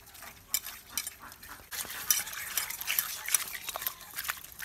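Raw rohu fish is washed by hand with salt in a bowl, giving wet squelching, rubbing and splashing sounds with a few sharp clinks, quiet at first and then busier and louder.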